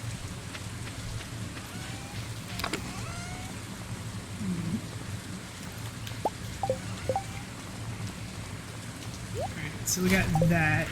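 Steady rain in the video game Stardew Valley, a soft constant hiss with scattered drips and a few brief splashy accents, moderately quiet throughout and rising slightly near the end.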